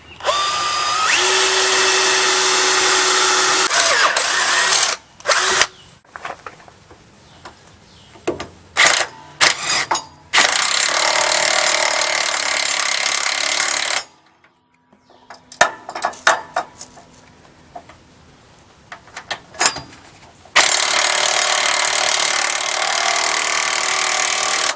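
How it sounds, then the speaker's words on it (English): A power drill bores a pilot hole for self-tapping screws while a SteadyFast RV stabilizer is fitted. Loud sustained whirring bursts open and close the clip, with short stop-start pulses in between. "I think we're ready to drill our first pilot hole"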